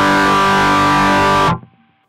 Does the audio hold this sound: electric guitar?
yes